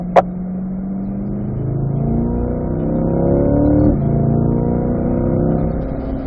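Chevrolet Corvette on a race track in third gear, its engine droning steadily then climbing in pitch as it accelerates, dipping briefly near the middle before holding a loud, close in-car rumble.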